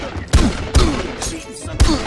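Gunshots from a shooting video game ring out as four sharp, loud reports spaced about half a second apart, each with a quick decay over a steady background.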